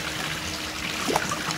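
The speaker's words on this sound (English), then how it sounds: "Pretty much filling the hose up with water." Water runs into a pool vacuum hose as it is fed down the pool wall, a steady close trickle and gurgle with a small splash near the end and no voices.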